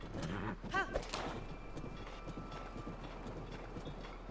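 A horse gallops in Zelda: Breath of the Wild, with faint, rhythmic hoofbeats in a quiet game soundscape and a brief louder burst near the start.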